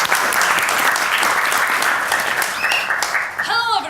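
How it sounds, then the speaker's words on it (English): Audience applause welcoming a contestant onto the stage at the FameLab Ireland 2012 science talk final, loud and sustained throughout, with a few whistles or cheers rising near the end. "Give another huge round of applause."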